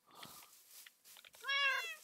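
A Minecraft cat meows twice, a short faint mew followed by a louder, drawn-out meow close by, with a brief soft sound in between and no talking.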